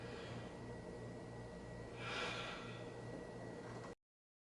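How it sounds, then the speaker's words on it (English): One deep, breathy inhale and exhale swells midway through a home workout set of core exercise, close to the mic and soft, over a steady low hum with no speech. "let me take a deep breath again"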